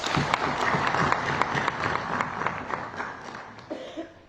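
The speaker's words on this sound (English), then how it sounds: "A round of applause." An audience at a youth budget consultation conference applauds, dense clapping that thins out and fades toward the end, with a few scattered individual claps and faint murmurs.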